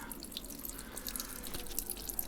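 Water keeps dripping from a balcony greenhouse, small irregular drips and trickles close by, with light patter over a faint background and no talk.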